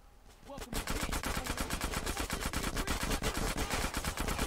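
Sustained rapid gunfire in the game GTA San Andreas Definitive Edition, starting after a brief quiet moment and then rattling on steadily, loud and close, as a continuous automatic burst.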